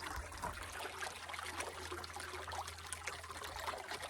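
Water trickles steadily out of a discharge pipe on a horse ranch, a continuous soft splashing stream close by with no voices.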